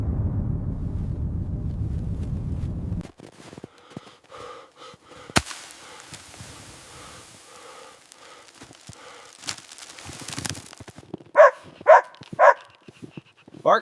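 A dog barking and whimpering outdoors in a midnight blizzard at -35°C, after a steady low wind roar cuts off, with soft breathing and then several loud close barks near the end.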